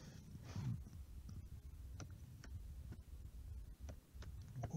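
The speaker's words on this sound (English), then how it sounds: "Really slow typing here." Slow typing on a computer keyboard, sparse individual key clicks spaced irregularly apart over a low background hum, close and fairly quiet.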